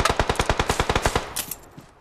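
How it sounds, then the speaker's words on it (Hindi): Rapid automatic gunfire in the BGMI battle royale game, a fast burst of about a dozen evenly spaced shots that stops abruptly, followed by a brief fading tail. "मुझ पे गोली चला रहे हैं।"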